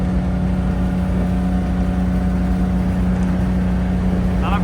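Tractor engine of roughly 40 to 60 horsepower pulling away in a race against a 400-horsepower tractor, a steady loud mid-pitched drone with constant hum and no pauses.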